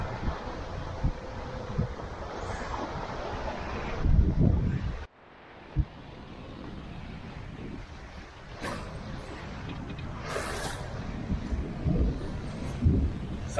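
Wind at sea rushes steadily aboard a sailboat running at about seven knots between rain squalls and thunderstorms, with broadband gusts, a sharp dip midway and hissing spray or water noise throughout.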